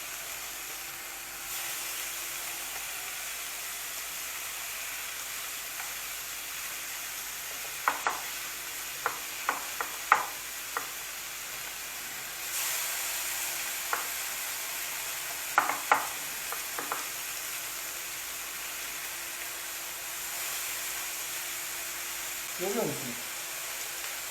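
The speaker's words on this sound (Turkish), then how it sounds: "Güzelce mühürleyeceğiz arkadaşlar." Chicken pieces sear in a hot pan with a steady soft sizzle throughout, punctuated by occasional clusters of sharp utensil taps and scrapes, close and moderately quiet.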